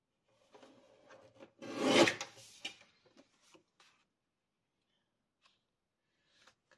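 Paper being trimmed to size for a scrapbook album page, a rasping cut that builds to a loud central stroke around the middle, with lighter scrapes and taps before and after and near silence at the end.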